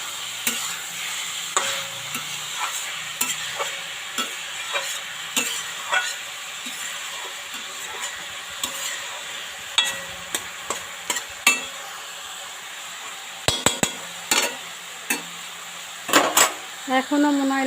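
Radish (mula) frying in oil in a pan, with a continuous sizzle under frequent sharp spatula scrapes and clinks coming in irregular bursts.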